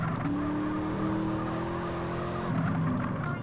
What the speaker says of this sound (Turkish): Araba bir orada 10 dakika boyunca kaydı.